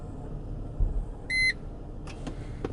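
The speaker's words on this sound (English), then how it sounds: "And I guess it beeps when it's done." A short electronic beep rings out inside a 2005 Chrysler Crossfire Limited once its rear spoiler finishes lowering. The single clear tone stands above a low cabin rumble, and a few faint clicks follow.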